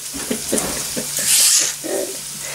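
Hot oil spits and sizzles in a frying pan while burrito filling cooks, a steady close crackle with a spoon scraping and stirring through it and a brighter hiss swelling midway.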